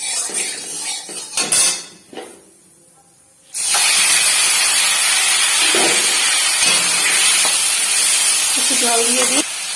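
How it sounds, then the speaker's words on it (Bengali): Oil hisses and sizzles loudly in a hot kadai before fish is fried, preceded by metal clinks of utensils against the pan, with the steady frying hiss continuing to the end. "কড়াইটা গরমই হয়ে গেছে, এবার তেল দিয়ে দেবো।"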